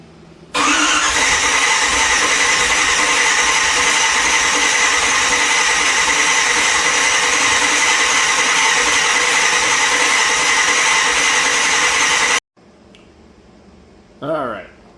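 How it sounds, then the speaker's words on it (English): A big block Chevy engine cranks loudly and steadily for about twelve seconds without catching, then cuts off abruptly, leaving a quiet pause and a brief voice near the end. "We're going to hit the ignition and see if we can't get this thing to start"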